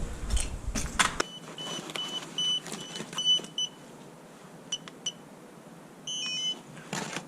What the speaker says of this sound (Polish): Włączył mi się kontroler od drona.